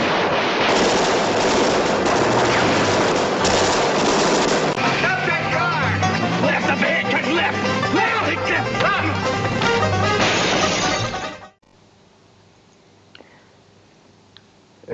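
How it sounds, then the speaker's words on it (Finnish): Film gunfire recorded by shooting into garbage cans, made for the Western Shane: a loud, dense stretch of sharp, crashing shots with metallic reverberation, ending abruptly into near silence. "Ja me äänitimme laukauksemme samalla tavalla, mikä oli George Stevensin ansio."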